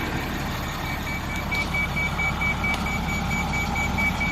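A 1994 Chevy Kodiak wrecker truck sounding repeated evenly spaced warning beeps from disconnected sensors, a thin steady tone pulsing over a constant idling engine rumble, with no talk.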